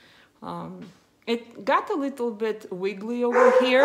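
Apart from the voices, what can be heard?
dog barking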